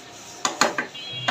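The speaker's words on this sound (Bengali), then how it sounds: "নাড়াচাড়া দিয়ে দিচ্ছি" A spoon clatters and scrapes against a metal pot while jackfruit seeds and dried hilsa curry are stirred, giving several quick close knocks over about a second with no talking.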